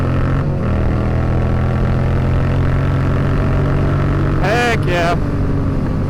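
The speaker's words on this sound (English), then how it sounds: "Little highway wheelie" Yamaha FZ-07 motorcycle engine droning steadily at speed during a highway wheelie, with constant wind rush, a loud continuous tone and a brief spoken exclamation near the end.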